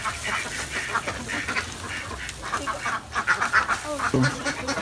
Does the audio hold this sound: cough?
no